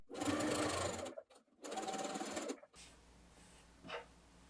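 Sewing machine top stitching a seam on a wool bomber-style jacket, two loud steady runs of rapid stitching separated by a short pause, then quiet handling noise.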